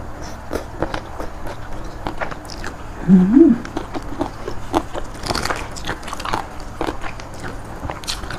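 Someone eating spicy Thai squid salad, with crunchy bites and chewing close to the mic over steady background noise, broken by a short vocal sound partway through.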